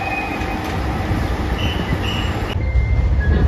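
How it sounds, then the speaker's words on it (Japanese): JR Shikoku's yellow Anpanman limited express Nanpu rolls past loudly and close, a continuous rumble of wheels on rails with high, thin squeals drifting above it. "多度津駅9時44分着特急南風6号黄色いアンパンマン列車岡山行き"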